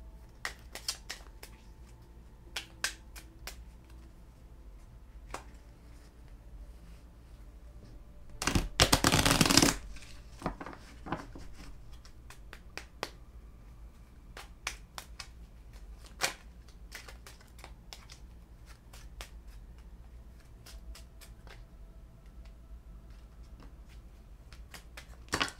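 A deck of tarot cards shuffled close up until one card slips out, with steady soft ticking taps throughout and one loud, dense riffle burst lasting about a second near the middle; no talking.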